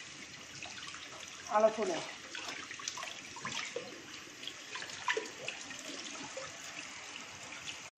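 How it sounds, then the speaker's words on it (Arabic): Tap water runs into a kitchen sink while raw chicken is washed, a faint trickling and splashing with a brief louder surge, under quiet talk. "وبعد كده نرجع بقى ايه نغسل الفراخ"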